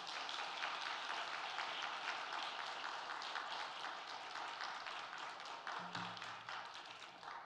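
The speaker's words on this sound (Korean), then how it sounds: "우리 강사분 나올 때 힘차게 박수로 환영하도록 하겠습니다" Welcoming applause at a Korean Wednesday church service, a dense, even crowd clapping that carries on steadily for several seconds at a moderate distance with no pauses.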